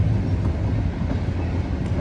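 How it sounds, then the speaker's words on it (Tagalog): A train passes near the Bow River in Banff, Alberta, a loud steady rumble with clickety-clack of rail wagons rolling continuously, no voices over it. "At hinahabol po namin ang tren."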